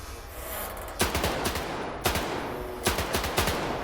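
Gunfire in the video game STALKER 2, several quick bursts of loud shots in rapid succession, separated by short gaps, over a constant background hum.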